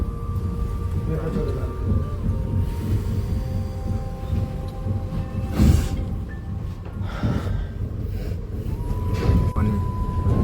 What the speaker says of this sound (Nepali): कपवा सहरमा ट्रेन हेर्नुहोस् गाइजहरू।